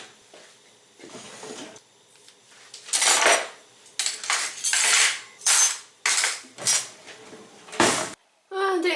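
Crockery clattering and clinking in a washing-up bowl of hot water as dishes are rinsed and set to soak, a series of close, irregular bursts of knocking and splashing with short gaps between.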